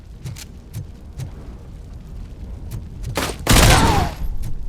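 Bursts of gunfire in a Robocop video game, scattered single shots early on, then a loud, dense volley of rapid shots near the end, with no talk over it.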